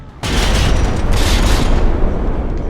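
Incoming shell hits strike a dreadnought-era warship in a naval combat video game, a sudden loud explosive roar that starts after a brief quiet moment and rumbles on, sustained and dense, to the end.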